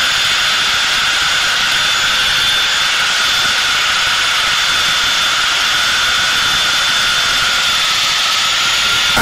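Steady, loud roar of a Blue Angels jet engine heard in flight as the aircraft accelerates at high speed, a constant broadband rush with a strong whine.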